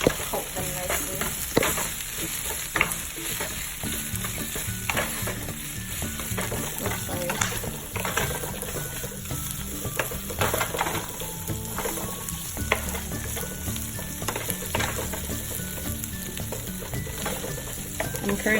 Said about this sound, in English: So now I'm just going to go ahead and stir these in, coat them nicely.